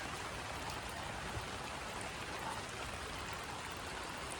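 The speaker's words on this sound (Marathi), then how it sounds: "इथपर्यंत आम्ही पोचलोय आणि रिमझिम पाऊस पडतोय." Light drizzle patters in a steady, even hiss outdoors on the Sondai Fort trek near Karjat in June, soft and continuous with no voices over it.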